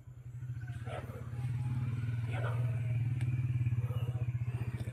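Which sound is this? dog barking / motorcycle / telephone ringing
motorcycle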